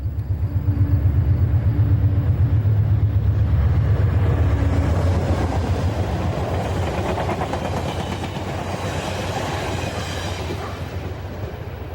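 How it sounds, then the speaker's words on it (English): Amtrak train 43, the Pennsylvanian, rounds a curve at Manor on the Pittsburgh Line with a loud, close rumble that gives way to rhythmic wheel clatter as the cars roll past, fading slightly toward the end. "Amtrak train number 43, the Pennsylvania, is operating just a few minutes behind Mail 9, and we shoot it passing through the same curve at Manor."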